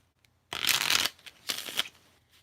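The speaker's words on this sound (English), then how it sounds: "One more shuffle." Tarot cards are shuffled in two quick riffling bursts, crisp and close, with a short pause between them in an otherwise quiet room.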